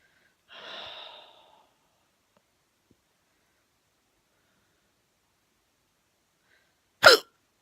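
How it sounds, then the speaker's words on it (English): Two separate hiccups from a woman with a headache: a breathy one early on, then a long silent gap before a sharp, louder hiccup near the end, with no talk. "Oh, I know, hiccups."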